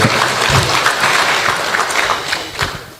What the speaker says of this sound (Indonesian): Berikan aplaus untuk beliau.